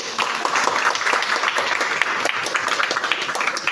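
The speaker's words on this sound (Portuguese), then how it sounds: "Palmas para nós." Dense audience applause at a formal Portuguese-language commemorative event, loud, steady clapping from a large crowd filling the whole stretch without pause.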